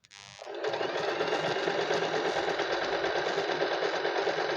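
A sewing machine stitching a buttonhole, starting up after a brief click and then running steadily with a fast, even mechanical whir close by.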